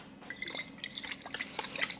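Fish sauce poured into a pot of Thai salmon head soup, a quick trickle of liquid with small drips and splashes over about two seconds, fairly quiet and close, with no talking.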